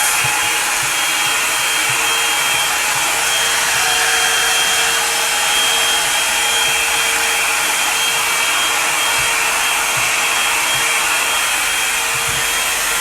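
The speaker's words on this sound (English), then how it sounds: "So then I go and grab the Revlon hairdryer brush and I just do the roots." A Revlon hair dryer brush running continuously up close on hair roots, a loud steady whirring blow with a high motor whine and occasional rubbing sounds.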